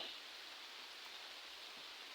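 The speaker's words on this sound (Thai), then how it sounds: "ตอนนี้ก็ฝนตกแล้วทุกคน" Rain falls steadily outdoors during a fishing trip, a soft, even hiss that stays faint and unbroken, with no voices.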